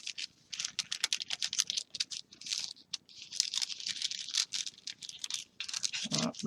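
A die-cut paper stencil is folded into thirds: quick crinkling, scraping and tapping of paper handled close up, in irregular bursts with short pauses between.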